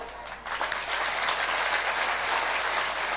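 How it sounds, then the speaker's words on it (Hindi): Crowd applause at a Hindi spiritual discourse, a dense, steady wash of many hands that swells after a slightly softer first half-second and holds loud and even throughout. "तालियां।"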